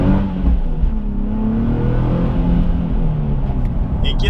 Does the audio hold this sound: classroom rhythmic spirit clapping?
no